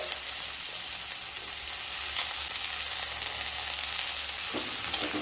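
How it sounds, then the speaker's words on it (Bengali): Diced potatoes, onion and garlic fry in a pan, giving off an even, continuous sizzle at moderate loudness with faint stirring; no talking. "আলু দিয়ে আলু পেঁয়াজ আর রসুনকে আবারও খুব ভালোভাবে ভেজে নেব"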